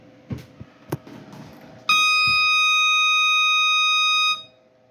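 A new alarm sounds a steady electronic tone for about two and a half seconds after a few soft knocks and handling noises, loud and close, then cuts off.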